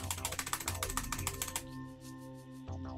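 A computer keyboard clacks in a rapid run of sharp keystrokes for about a second and a half. A softer humming tone follows, with one more click near the end and no talking.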